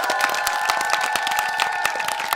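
Studio audience applauding at a Korean idol radio broadcast, a steady wash of many hands clapping with light cheering, close and continuous, a faint tonal hum underneath.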